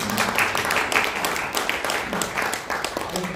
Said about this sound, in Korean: 큰 박수로 환영 인사드립니다